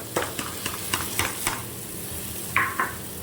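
Paneer stirred and fried in a pan for paneer bhujiya, a series of sharp scraping stirs at a steady rhythm over a soft sizzle, close and fairly loud, ending with two brighter metallic scrapes.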